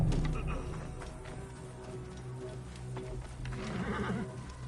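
A horse in the video game Assassin's Creed Origins, whinnying and snorting with hoof clops underneath, moderately close, over a steady ambient game background.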